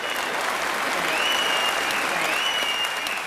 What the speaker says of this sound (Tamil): உங்களுக்கு கம்பம் மக்களின் பலமான கைத்தட்டலை பரிசாக கொடுக்கின்றேன்.